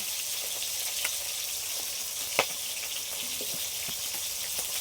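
Fish fry in a pan: a soft, continuous sizzle with scattered small pops and crackles runs throughout, fairly quiet and close, with no voices.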